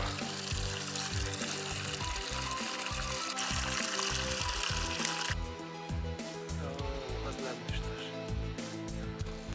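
Spring water pours and trickles from a roadside source in a Chechen village, a steady close splashing stream with a constant hiss that thins after a few seconds, while voices talk over it.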